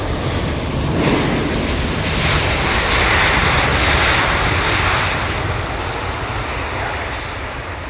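A jet airliner on landing approach at London Heathrow Airport in wet weather, its engines a loud, sustained broadband roar that swells and holds steady throughout, with no voices.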